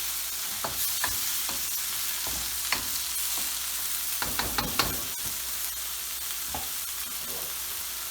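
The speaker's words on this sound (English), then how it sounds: "our fish are just cooking away on the skillet there" Whitefish cooks with tomatoes, corn and jalapenos in a cast iron skillet, giving a steady soft sizzle with scattered clinks and scrapes of a utensil and no talk.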